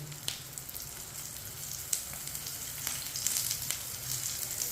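Breakfast frying in oil in a pan on the stove over low heat, a steady close sizzle with light crackles throughout.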